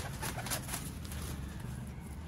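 Pigeons on a rooftop give low, continuous cooing that sits under a steady wash of background noise, with a few brighter chirps in the first second and no voices.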